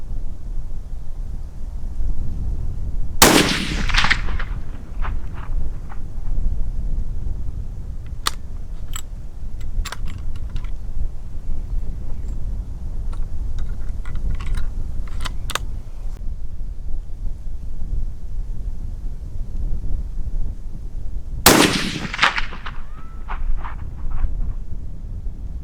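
Two loud rifle shots from a Christensen Arms 300 PRC at a private shooting range, one near 3 seconds and another near 21 seconds, each a sharp broadband crack with a brief ringing tail, set against steady wind noise.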